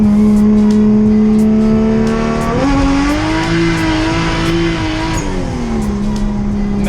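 A car engine with a blown turbo revs under load without boost, its steady droning note rising and dipping as the throttle changes, loud and close throughout with no talk.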